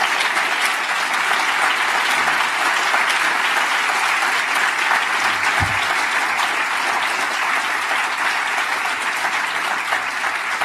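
Audience applause at an entrepreneurs' event in Armenia, steady and dense for the whole stretch, loud and continuous with no talk over it.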